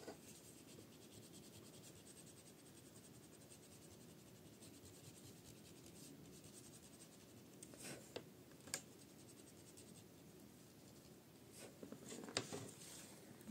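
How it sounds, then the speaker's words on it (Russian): An ordinary eraser lightly rubs pen ink off vegetable-tanned leather, making a faint, steady scratchy friction with a few soft taps near the end, close by and alone. "Едва касаясь, я просто стираю ручку."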